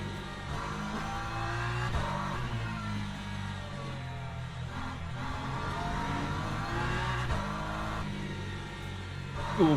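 A race car in Le Mans Ultimate circling Paul Ricard at a gentle pace on cold tyres, its engine droning steadily at moderate volume with shifting pitch as it gears up and down.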